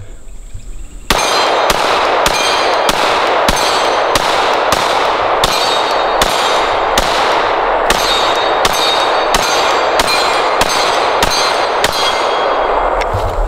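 Rapid, evenly spaced gunshots from a Glock 17 pistol, sharp loud cracks in a steady string of about twenty shots over continuous outdoor noise, with no talking.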